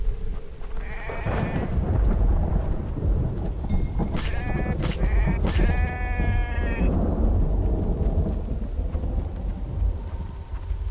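Sheep bleat several times in quick succession in The Infected survival game, loud and close, over a steady rumble of rain and thunder.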